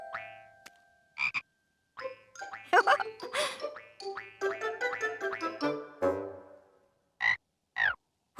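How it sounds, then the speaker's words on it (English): A cartoon frog croaks in a children's colouring story, several short separate croaks and boings spread across the scene, some alone and some among musical tones, fairly close and clear. "Oh, hello, little frog."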